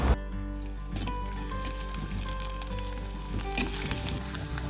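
Ginger and garlic sizzle steadily in hot oil in a pan, a continuous close frying hiss with occasional crackles throughout.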